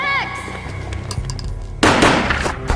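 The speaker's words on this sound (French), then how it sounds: "Un coup de feu retentit et elle tomba lentement." A sharp gunshot rings out in the Max Payne video game, a single loud burst that arrives after a quiet stretch with a few thuds and a spoken voice.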